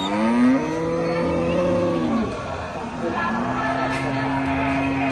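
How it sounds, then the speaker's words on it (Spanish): Cattle mooing at a livestock market, with long drawn-out lowing calls from nearby animals overlapping through the clip. "y así está la zona de las vacas"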